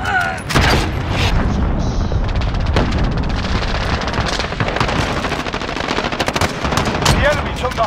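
Loud, dense gunfire from the video game Modern Warfare fills the scene with rapid automatic bursts and sharp single shots in quick succession, and a few booms are mixed in.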